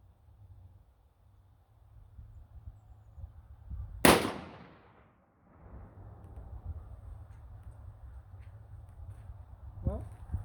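A rifle fires a reduced-powder load with a bullet turned from copper round bar stock, one sharp, close report that decays quickly, set against faint outdoor background noise.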